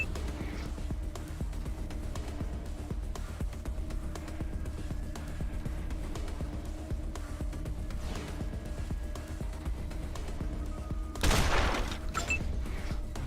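Gunfire rings out in the Wasteland 2 video game as faint, scattered shots over a constant low background, with one louder burst near the end.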